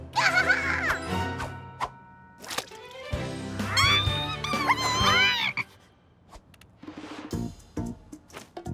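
Meowing sounds rise and fall in a lively sequence over music and other background noises, with short pauses between them, like an animated cat.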